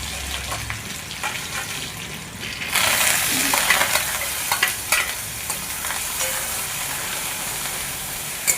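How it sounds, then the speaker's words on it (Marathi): Mustard seeds and garlic hit hot oil for masale bhaat, bursting into a loud, steady sizzle after a quiet start, with occasional stirring scrapes and pops continuing to the end. "मोहरी टाकली, लसूण,"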